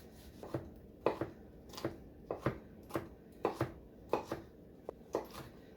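A knife dices a fresh tomato on a cutting board, a dozen or so soft, evenly spaced chops in a steady rhythm, close and fairly quiet with no voices.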